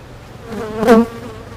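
Honeybees drone around an open hive with a faint, steady hum, as one bee passes close to the microphone in a brief, louder buzz that swells and fades.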